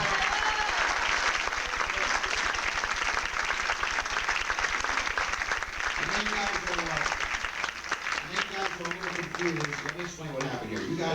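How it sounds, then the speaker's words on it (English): A comedy show crowd in Hoboken, New Jersey, applauds loudly and continuously for hypnotized volunteers, the dense clapping later joined by voices talking over it. "they deserve a tremendous round of applause"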